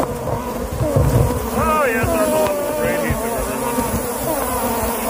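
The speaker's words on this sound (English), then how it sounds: "knock down thousands of bees in midair so they don't try to kill us like they're trying to do now" A dense swarm of bees buzzes loudly and continuously, with individual insects whining past close by over a constant droning hum.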